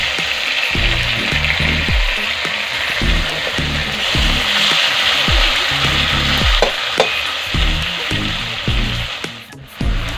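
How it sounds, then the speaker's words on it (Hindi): Tomatoes sizzling and frying in hot oil in a pan for soyabean badi sabji, a steady loud hiss with rhythmic scraping as the mixture is stirred throughout. "अब इसमें टमाटर दे रही है।"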